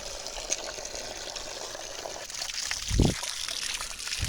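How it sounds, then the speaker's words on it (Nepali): Water runs steadily from a village spring spout, a continuous close splashing trickle with a brief heavier gush partway through and no talking. "फाइनली हामी पानीको धारामा आइपुग्यौँ अब पानी खान्छौँ"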